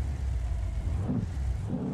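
A Ram truck engine in the video game BeamNG.drive rumbles and revs briefly, a low steady drone with a short rise in pitch, heard alone without talk.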